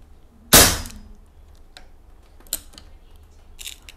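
PCP Ghost Warrior regulated air rifle with a suppressor fired once: a single sharp, loud crack that decays quickly, followed by faint clicks and quiet room noise.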